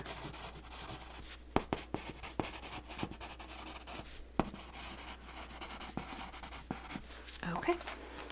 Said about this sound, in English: Okay, so let me write this one.